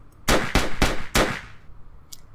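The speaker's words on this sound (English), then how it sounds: "the nearly ear-rupturing sounds of gunshot in the building ahead of us" Four sharp gunshots ring out inside a building in the visual novel Driftwood. They come in quick succession, loud and close, each one cracking out and leaving a brief echoing tail.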